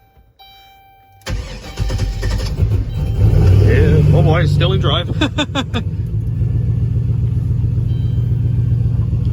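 A turbocharged 6.0 LS V8 swapped into a Caravan van cranks, catches and roars up loudly, then settles into a steady, rich-running idle as someone talks over it.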